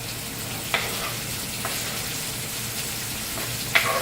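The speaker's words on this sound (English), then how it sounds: "I'm starting to saute up my onions" Onions, red peppers and garlic sauté in a hot pan with a steady, close sizzle, broken by a few sharp clicks of a utensil against the pan.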